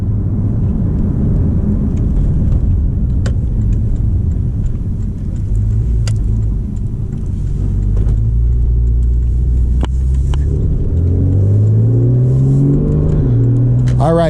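Porsche 911 Carrera 991.1 flat-six engine heard from inside the car on twisty roads, a loud, steady rumbling drone that swells and pitches up under acceleration near the end.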